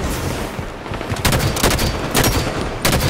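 Loud bursts of enemy automatic gunfire in the video game Halo 5 Warzone come in rapid rattling volleys. Several sustained clusters of shots stand out over a dense, steady background of combat noise.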